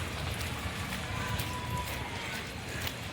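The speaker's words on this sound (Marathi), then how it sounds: "सकाळपासून पाऊस चालू आहे" Steady rain falls on a road, a dense continuous hiss of drops at moderate level with no distinct breaks.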